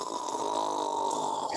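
A voice imitates snoring during a children's storytelling of Goldilocks asleep in bed, a single steady, rasping drone held close and fairly loud for the whole moment with no words spoken.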